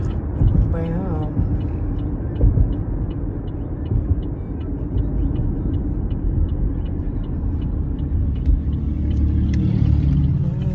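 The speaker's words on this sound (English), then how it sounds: "I'm test driving it. It is a Chevy Malibu." Chevy Malibu on a test drive, a steady low engine and road rumble heard from inside the cabin, continuous and fairly loud with slight swells, and people talking over it.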